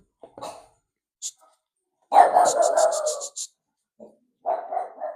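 A dog whimpers and whines in short, high bursts separated by silence, with a longer wavering whine in the middle, close and moderately loud.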